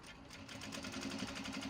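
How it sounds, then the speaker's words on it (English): A sewing machine runs steadily while stitching a mini traveller sling, its needle giving a quick, even rhythmic whirr and clatter, quiet and close, with no talking. "we're gonna start stitching this like this."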